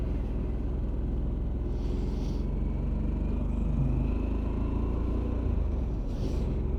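A Harley-Davidson Sportster S is ridden at below highway speed, with a steady low engine rumble droning throughout and a little wind noise on top.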